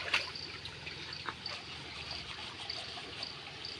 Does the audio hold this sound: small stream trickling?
yes